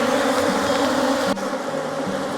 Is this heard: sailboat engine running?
no